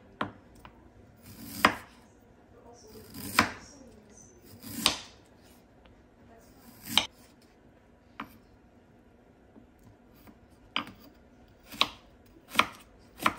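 A knife slicing ginger root on a cutting board, about a dozen separate crisp chops at an uneven pace with quiet gaps between them, close and clear, with no talking.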